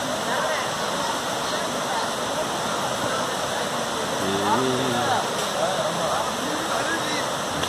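Water streams continuously at a riverside bathing spot, a dense, even rush heard close up, with voices briefly talking over it.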